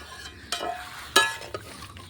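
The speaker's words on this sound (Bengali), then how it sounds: "সব কিছু নাড়িয়ে মিশিয়ে নিলাম ভালো করে" Tomatoes stirred in a pot with a splash of water for homemade tomato sauce, a few soft scrapes and wet clacks of the spoon against the pan, close and quiet with no voices.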